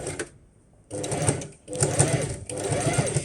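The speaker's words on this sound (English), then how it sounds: "this is a very, very strong sewing machine in terms of the motor power" Bursts of a powerful sewing machine stitching, its motor whirring loudly in three runs separated by short pauses, with faint voices in the background.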